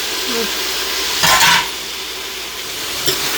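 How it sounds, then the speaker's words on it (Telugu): Sliced tomatoes frying in oil in a pan for a gongura chicken curry, a steady sizzle with a louder burst of stirring scrapes near the middle. "ఈ టొమాటో మొత్తం మంచిగా మగ్గి ఫ్రై చేద్దాం"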